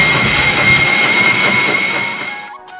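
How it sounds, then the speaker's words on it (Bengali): Kitchen mixer grinder whirring loudly and steadily while grinding a large batch of masoor lentils, a continuous motor drone with a high whine that cuts off near the end. "অনেকগুলো মুসুরির ডাল তার জন্য আমি মিক্সিতে চটপট করে বেটে নেব"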